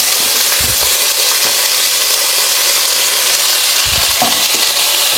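Tempering spices sizzling in hot oil in a home kitchen, a steady close hiss of frying with a few soft stirring knocks and clinks underneath, no voices.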